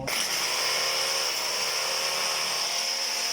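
A rotary hammer drill, repaired after a loose-contact fault, runs at a steady, loud motor whine for a few seconds without stopping.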